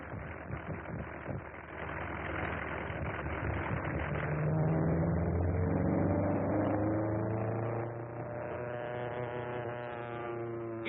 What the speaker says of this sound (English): Sounds like he has engine trouble.